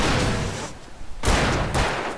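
Rapid bursts of gunfire at a possessed enemy in the video game Alan Wake, a loud volley, a brief lull, then more close, dense shots.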